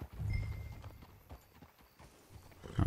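Horse hooves clip-clop at a walk in the video game Red Dead Redemption 2, soft and close, with an uneven rhythm that slows toward the end and no clear whinny.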